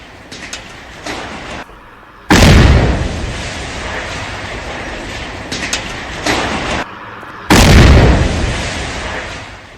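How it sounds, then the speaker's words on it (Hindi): A militant's house in Tral, Pulwama is blown up in a demolition. Two loud, heavy booms each roll out into a long rumble over a steady background roar. "पुलवामा के त्राल में लश्कर के आतंकवादी आसिफ शेख के घर को उड़ा दिया गया।"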